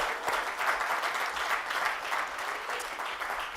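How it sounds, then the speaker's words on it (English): An audience applauds award recipients with sustained, even clapping that holds at a steady level throughout and has no talk over it. "can we give them one more round of applause for our inaugural?"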